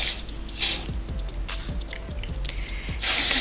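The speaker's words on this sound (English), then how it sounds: "That's a spray." Nail drying spray is sprayed in short bursts, with hissy blasts at the start, around the middle and a louder one at the end, over quiet handling noise.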